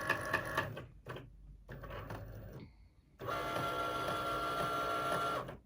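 An electronic craft cutting machine scanning registration lines on card for a DIY card, its carriage whirring and buzzing in stop-start bursts, then a steady mechanical hum close by.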